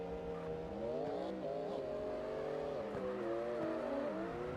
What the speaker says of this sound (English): So we got all the rev limiter here.